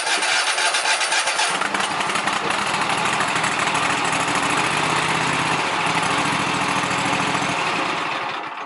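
A lawn mower engine powered by a lithium battery cranks and fires up, settling into a loud, steady running roar that stays close and continuous throughout.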